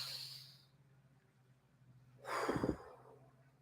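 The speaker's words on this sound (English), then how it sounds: "Everybody go ahead and take a deep breath with me." A single deep breath, a soft drawn inhale followed by a louder, rushing exhale close to the microphone, with quiet room tone around it.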